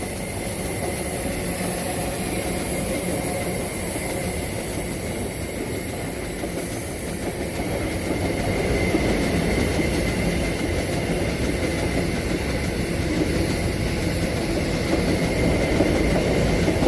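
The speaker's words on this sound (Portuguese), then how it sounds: "Trem com vagões vazios." An MRS freight locomotive hauling a train of empty wagons rolls steadily past near Antônio Carlos, its continuous rumble and rail noise holding for the whole stretch and growing slightly louder toward the end.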